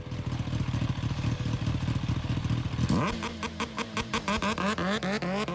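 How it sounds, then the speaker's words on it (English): A 2015 Kawasaki Ninja H2 supercharged motorcycle runs loud and close, first holding a steady drone, then blipping the throttle in rapid revving pulses. "Kawasaki the Ninja H2 2015."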